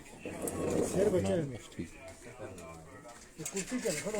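Pigeons coo in someone's loft, soft rolling calls heard close, with someone talking over and between them for most of the stretch.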